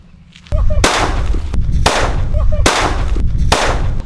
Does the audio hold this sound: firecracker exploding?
yes